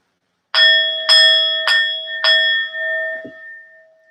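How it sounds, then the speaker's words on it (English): A bell is rung four times in quick succession, each strike a bright metallic ping. The rings overlap and leave a long resonant tone that fades away slowly, with no voices. "let me ring the bell for you"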